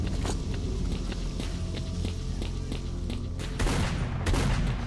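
Scattered gunshots crack in STALKER: Lost Alpha, some in quick bursts, over a steady low rumble of background noise.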